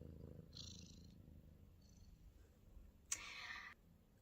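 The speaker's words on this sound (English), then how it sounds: "especially because my little kitty here" A pet cat purrs faintly and close by in a quiet room. Brief bursts of soft hiss and a sharp click break in, and the last burst is louder.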